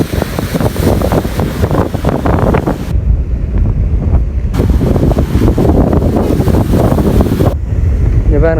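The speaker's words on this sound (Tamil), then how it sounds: "நேரில் பார்க்கும்போது மிக பயங்கரமாக இருக்கும் இந்த அலைந்த வேகம்" Storm wind and heavy waves strike the Point Pedro coast as a cyclone approaches, a loud, constant roar with harsh wind buffeting on the microphone and brief gaps where the gusts drop.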